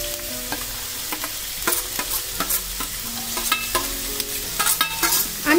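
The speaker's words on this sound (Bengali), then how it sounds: "সবজিগুলোকে আমি 2 মিনিট মতো একটু ভেজে নিচ্ছি" Carrot, beans, capsicum and onion being fried and stirred in a pan while making fried Maggi noodles, a steady close sizzle broken by repeated scraping strokes of a spatula.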